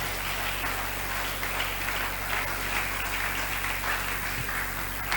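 A church congregation at a seminary gathering breaks into steady, sustained applause and acclamation for the Lord, a dense, even roar of clapping with no pauses.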